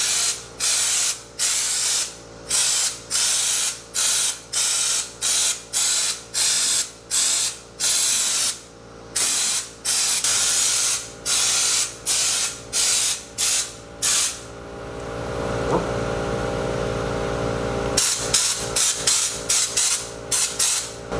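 An aerosol can sprays bedliner coating onto a Jeep in a long series of short, sharp hissing bursts with brief pauses between them, followed by a longer continuous spray and then a few more quick bursts near the end, with no talking.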